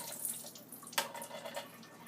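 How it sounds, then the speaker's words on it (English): Canned beans are rinsed under a running kitchen tap, a continuous close-up splashing hiss of water with a brief louder splash, and no talking. "I'm gonna rinse the beans to just get rid of that excess sodium."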